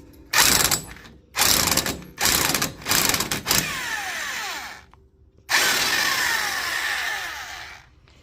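Loud bursts of ratcheting clicks from a ratchet with a 1 1/16 socket loosening an axle castle nut on a 2017 Polaris, several short repeated strokes followed by longer spinning runs, close and alone.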